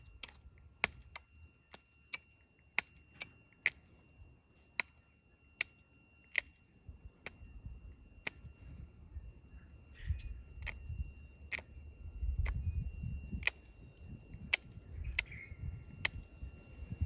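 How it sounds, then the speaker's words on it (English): Sharp, close stone clicks ring out at a steady pace, about twenty of them, as tiny flakes are pressure-knapped from the beveled edge of a Hardee-style stone spearpoint, with faint low rustling between strikes. "We want to bust tiny flakes off. That's that noise."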